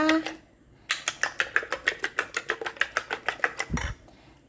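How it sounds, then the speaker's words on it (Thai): Eggs are beaten in a bowl in a home kitchen, a fast, even run of sharp clinking taps from utensil against bowl, close and clear after a brief pause, ending in a short low thump. "ตอนนี้แม่ก็ตีไข่ก่อนนะคะ"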